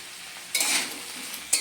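Shukto vegetables stirred in a hot pan, a short scraping sizzle as a spoon moves through them, followed by a second brief scrape, close and fairly quiet.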